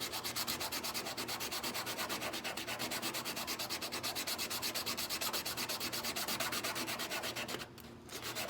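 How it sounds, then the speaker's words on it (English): Steady, rapid back-and-forth scratching as a wooden coaster is sanded by hand with 80-grit sandpaper, close and continuous, with one short pause near the end. "I'm going to sand just this half first with the 80 so you can see the difference on the two."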